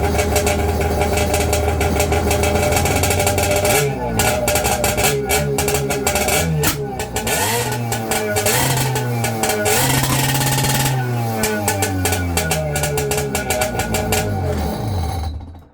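A car with a Coffman exhaust starts up and revs repeatedly, loud and close, with a crisp, brappy exhaust note that rises and falls through several throttle blips and settles into idle between them.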